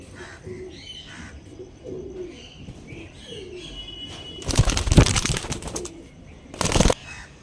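Andhra breed pigeons, a released pair of male and female, coo softly in repeated low phrases up close, then two loud bursts of flapping wings break out as the birds take off.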